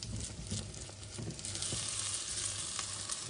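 Black locust flower omelette fries in a pan with a steady, close sizzle and crackle that holds its level throughout, and no voices are heard.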